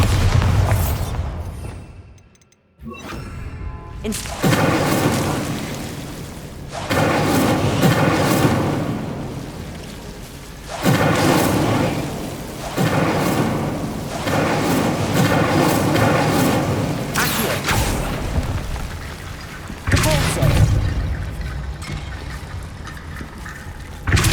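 Bombarda spell explosions in Hogwarts Legacy: a series of loud, booming blasts with rumbling tails, spaced a few seconds apart, filling the scene alone.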